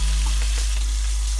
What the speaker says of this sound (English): Look at it frying up.